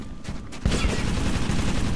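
Gunfire in Metro 2033 Redux, a sudden loud burst of rapid shots that continues as a dense rattling volley after a quieter opening.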